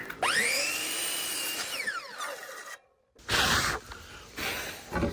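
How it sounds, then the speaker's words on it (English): A miter saw cuts a cedar board. A loud motor whine rises and holds, then winds down. A short silence follows, then the saw roars again in bursts. "then we'll get up on the miter saw table and get that cut right there"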